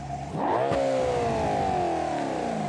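An Audi RS6 engine in the video game BeamNG.drive revs up sharply, then holds a loud, steady roar with shifting pitch, close and continuous.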